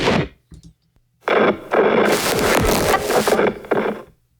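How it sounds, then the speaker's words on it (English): Radio glitch and stutter sound effects from the MALFORM sample pack: choppy bursts of crackly static start and stop unevenly, with short dropouts and harsh broadband stutters, loud and close, then cutting out. "Radio glitches, stutters."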